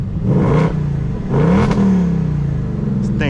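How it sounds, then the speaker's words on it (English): Loud revs from a 2024 Ford Mustang Dark Horse heard from the cabin, two sharp rising blips that fall back to a rumbling idle, with no talking over them. "Quick rev off the Dark Horse."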